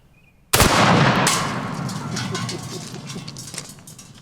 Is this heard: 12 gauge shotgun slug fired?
yes